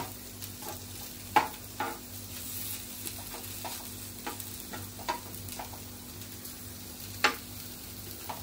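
Okra sizzles quietly on a hot griddle over medium heat, a soft steady crackle broken by occasional clicks and scrapes of stirring.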